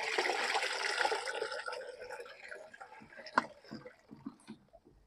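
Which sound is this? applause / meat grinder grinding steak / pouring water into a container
pouring water into a container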